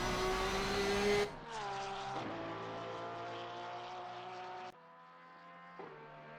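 A Porsche flat-six engine howls from onboard a car lapping the Nürburgring through Bergwerk, the steady rising pitch broken by a few distinct gear shifts, loud and close with no talk.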